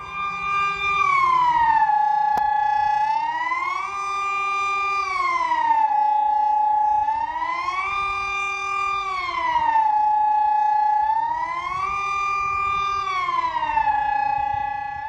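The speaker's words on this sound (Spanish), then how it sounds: "esta prueba de las sirenas de guerra se escuchan en todo el país, en todo Suiza" Swiss civil defense war sirens sounding in a nationwide test, a loud sustained wail rising and falling in slow repeated cycles, several sirens overlapping with a low hum beneath.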